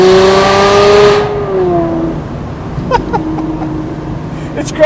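An Aston Martin Vanquish engine revs hard and very loud, a sustained roaring note that climbs and then falls away, followed by lighter throttle blips and engine burble close by.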